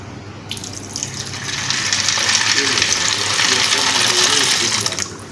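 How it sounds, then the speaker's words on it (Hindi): Chana dal lentils being washed under a running tap in a home kitchen, a steady rushing stream of water splashing into a bowl or sink, close and fairly loud, starting after a brief pause and running continuously. "दाल को अच्छी तरह से धो लेंगे"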